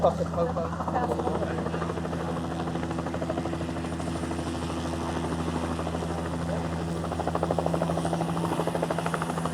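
A helicopter's rapid rotor thumping and engine whine fill the clip, steady and close, with voices faintly underneath.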